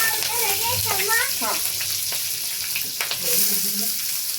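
Curry leaves and onion frying in oil in a pan for a potato curry, a continuous close sizzle with a few stirring scrapes, while a voice talks over it in the first half.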